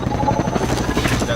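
A helicopter in the video game Half-Life 2 gives off a loud, continuous rotor thrum with rapid chopping pulses, filling the short stretch without a break.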